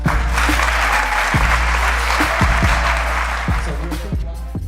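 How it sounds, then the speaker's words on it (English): Steady, dense applause from an audience at a high school awards ceremony, loud and continuous for several seconds and tapering slightly at the end, with low thumps scattered beneath it. "Let's give them a round of applause"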